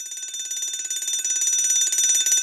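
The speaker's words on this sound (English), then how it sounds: "Norman kicks a football at the alarm by accident. The alarm goes off." A loud electric fire alarm bell rings continuously with a rapid metallic trill, steady and unbroken, growing slightly louder toward the end.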